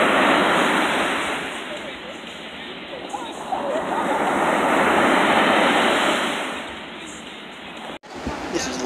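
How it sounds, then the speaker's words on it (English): Ocean waves roll onto a beach in Mexico, a broad wash of surf that swells and recedes over several seconds and ends with a sharp break near the close, likely from the recording being cut or disturbed. "That tide just keeps coming and coming."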